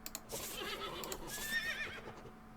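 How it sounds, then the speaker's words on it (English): A horse neighs and whinnies in the Western game Above Snakes, a breathy rising call with faint hoof clops, heard close and fairly quiet over a soft background. "Pet the horse. Such a good horse."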